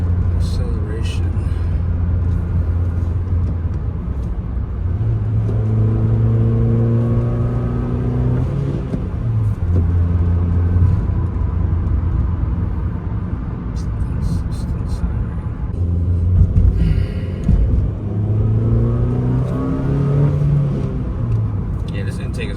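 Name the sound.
Honda Fit Sport with Injen cold air intake accelerating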